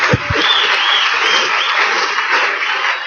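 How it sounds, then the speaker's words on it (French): A church congregation breaks into sustained applause during a sermon, the clapping thick and even across the room, with a couple of sharp low thumps at the start and faint voices mixed in. "applaudissons pour le Seigneur"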